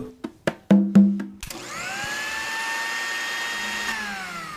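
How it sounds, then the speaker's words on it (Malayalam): A few sharp clicks come first, then a kitchen mixer grinder starts up, its motor whining up to a loud, steady high-pitched drone that holds close by. "എന്തോ അടുക്കളയിൽ മിക്സി ഓണായി."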